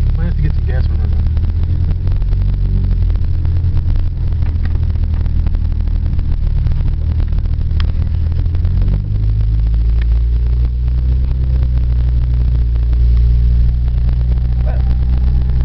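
A Ford Tempo car driving, its engine humming steadily with a low droning rumble inside the cabin and a slight rise in pitch as it accelerates, while people talk over it.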